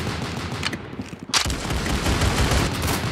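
Rapid gunfire from a shooter video game, dense continuous bursts of shots with a brief pause partway through, loud and close with no talk.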